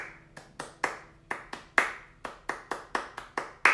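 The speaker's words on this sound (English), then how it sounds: "the hand claps were something that I've never done before in a song" A dozen or so sharp hand claps in an unhurried, slightly uneven rhythm, recorded close as part of an acoustic song, standing alone with no other sound between them.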